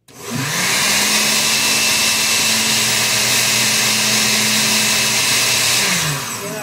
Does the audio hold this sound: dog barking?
no